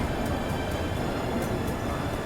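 Steady, dense rumble of the Tamil Nadu Express rolling slowly through a station, heard from inside the train with continuous wheel and carriage noise and faint rhythmic clicks, loud and unbroken, with no talking.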